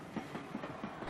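A branch train standing at a railway station bay platform, a low steady rumble with faint rhythmic clanking, distant and quiet with no voices.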